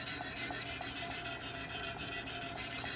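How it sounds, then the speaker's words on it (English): A sharpening stone scrubs back and forth along the heel of a knife blade clamped in a Wicked Edge Commercial Series sharpener, a rhythmic rasping of about ten quick strokes, close and light-pressured with no talk. "I just do a little bit more scrubbing just here."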